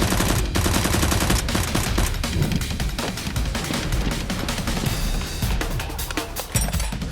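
Dense, continuous rapid fire from toy Nerf blasters during a staged gun fight, loud bursts overlapping with no pauses for the whole stretch and no speech.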